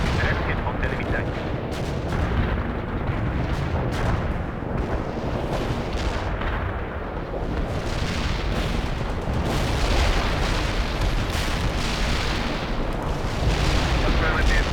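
Artillery strike explosions rumble through a World in Conflict battle, a continuous dense barrage of heavy booms and blasts with radio-style voices occasionally heard amid the din.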